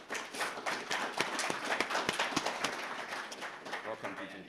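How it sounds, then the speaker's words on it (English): Scattered, uneven clapping from a conference audience welcoming the Deputy Governor of the Reserve Bank of Zimbabwe at an impact investment dialogue, sharp claps spread across the clip with a voice talking over them. "Ladies and gentlemen, please join me in welcoming, big round of applause, to the Deputy Governor of the Reserve Bank of Zimbabwe"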